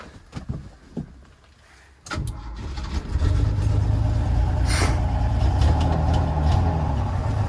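Holden panel van with a carburettor engine cranking briefly after some faint clicks, then catching and settling into a loud, steady idle close by, with no talking.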